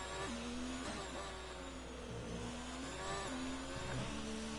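Formula 1 race car engine in a video game, revving high in second gear at the Singapore circuit, a steady high-pitched whine with small shifts in pitch, loud and close with no voices.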